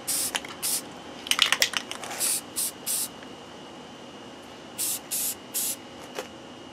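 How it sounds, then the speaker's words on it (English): Short bursts of spray paint hissing from a can, several quick pulses in a cluster, then a pause and three more sprays, close and loud. "Now you want to do thin coats with spray paint."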